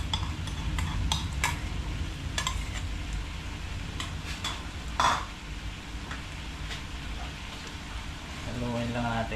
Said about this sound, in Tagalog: Haluin lang natin hanggang sa maluto na.